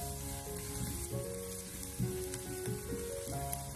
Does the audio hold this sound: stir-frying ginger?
yes